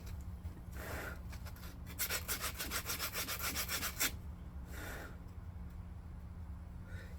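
Coarse, heavier-grit sandpaper rubs over hand-carved wood in short scraping strokes, first a few separate passes, then a quick rhythmic run of back-and-forth rasping, then another lone stroke over steady background hum.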